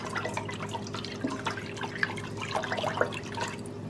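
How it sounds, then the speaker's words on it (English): A spoon stirs water and pickle juice with spices in a bowl, producing soft sloshing and small liquid drips and clinks at an irregular rhythm, close and moderately quiet with no voices. "We got the water and the pickle juice in there. We're just going to give that a stir."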